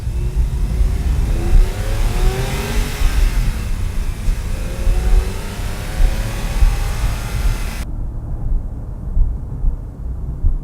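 A car engine revs repeatedly up to about 5,000 RPM through its exhaust in a residential neighborhood, loud and close, rising and falling in pitch with a deep rumbling throb throughout.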